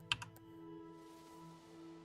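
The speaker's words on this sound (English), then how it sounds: "I honestly don't know if my keyboard sounds any different" A few quick clicks from a new gaming keyboard start the moment, a short burst of keystrokes near and crisp, followed by a faint steady hum of a computer game in the background.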